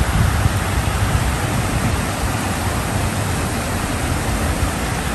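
Rushing water from a waterfall or creek in Austin, a constant broadband wash of fairly loud, even flow with no other sounds.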